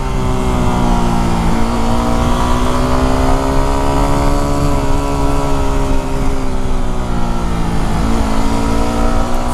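A Yamaha WR250R dual sport motorcycle cruises along Skyline Blvd in the Santa Cruz Mountains, its engine droning loud and close with gentle rises and dips in pitch, wrapped in steady rushing wind.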